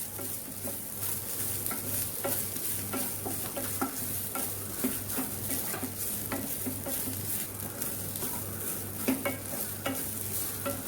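Dry prawns being stirred and roasted in a kadai for a Kerala-style curry, with a steady sizzle under repeated scraping and stirring strokes, close and continuous throughout with no talking.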